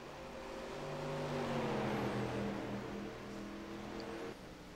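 Late model race cars run a one-mile oval, engines droning and swelling as they rise and fade in a passing sweep at moderate distance.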